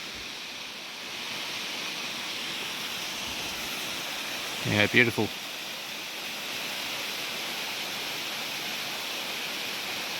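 Steady broadband rush of Montezuma Falls, a tall waterfall in Tasmania, heard from a distance as a constant wash, with a brief spoken remark partway through.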